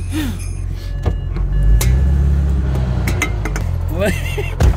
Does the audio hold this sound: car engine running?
yes